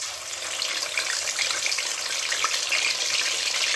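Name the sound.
fish pieces frying in hot oil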